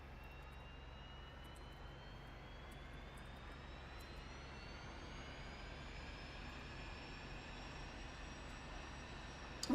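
A jet engine spooling up in a flight simulator game, a faint, steady turbine roar with a whine that slowly rises in pitch over several seconds, with no talk.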